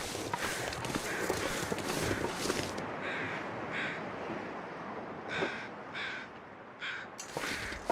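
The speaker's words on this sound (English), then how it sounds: "That sounds sort of like the overhead crows." Crows caw overhead in a video game, several harsh calls in short bursts over a steady wash of background ambience, moderately loud and without talk.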